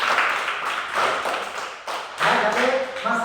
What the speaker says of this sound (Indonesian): tepuk tangan untuk kelompok 3 juga